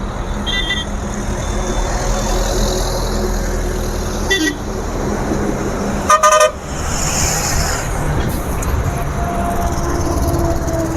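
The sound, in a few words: lorry horn honking on a highway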